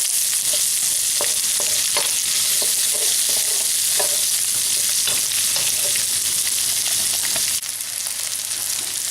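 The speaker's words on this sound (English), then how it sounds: "I've got about a tablespoonful of oil in the pan, just going to add in the onions. I'm going to cook these quickly till they start to brown around the edges." Onions cooking quickly in about a tablespoon of hot oil in a pan make a loud, continuous hiss, with intermittent stirring taps and scrapes close by.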